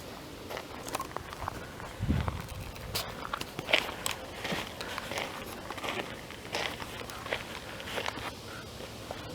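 Footsteps on an outdoor hiking trail under an overcast sky: a steady run of crunching steps on a rough path, close to the microphone, with scattered rustles and light ambient noise.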